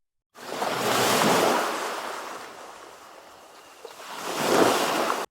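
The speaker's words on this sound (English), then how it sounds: "Waves slammed against the jagged rocks beneath Black Rock Lighthouse, sending bursts of white spray high into the darkness." Atlantic waves crash against jagged rocks beneath a lighthouse in wind, a loud, continuous roar that swells, eases off, then surges again, with no voices.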